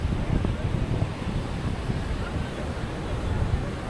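Wind and surf at Kovalam beach on a cloudy day, a constant loud rushing roar with buffeting against the microphone and dense low rumble from the waves.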